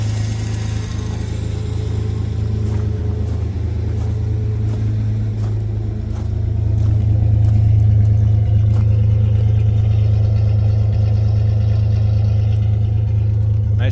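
A 1996 Chevy S10 with a 4.3 V6 and Holley Sniper fuel injection idles after a cold start, a steady low rumble that swells slightly partway through, with faint clicks over the top.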